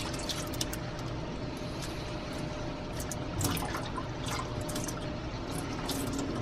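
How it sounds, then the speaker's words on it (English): Dry ice bubbling in water, a continuous fizzing and gurgling close to the microphone with scattered small pops and splashes, fairly quiet and with no talk. "Look at that bubbling. I can feel it bubble."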